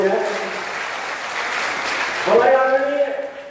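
An audience at a kavi sammelan poetry gathering in Sitapur breaks into a burst of clapping, a dense patter rising under a voice on a microphone and fading as he keeps talking.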